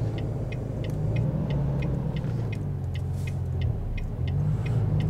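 A truck engine in American Truck Simulator drones and pulls under load, a steady low rumble whose pitch shifts as it accelerates, with a faint rhythmic ticking above it and no talk.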